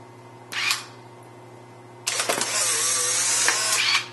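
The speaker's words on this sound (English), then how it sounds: "if you fully depress the shutter button, then you take a picture" A folding instant camera's shutter fires with a short mechanical snap, then after a pause its motor whirs loudly and steadily for about two seconds while the print ejects, ending with a brief click.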